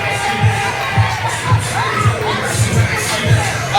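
A wrestling crowd at an indie event cheers and shouts for a former champion, a dense, continuous roar with rhythmic chanting pulses, filling the whole space.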